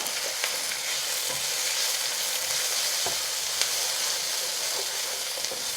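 Chicken and vegetables sizzle steadily in a stir fry, giving a dense, constant frying hiss with small crackles and pops and no speech.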